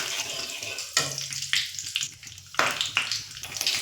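Black cumin seeds and slit whole green chillies sizzle in hot oil in a pan, a steady crackling hiss with sharp bursts of spitting, close and with no talk.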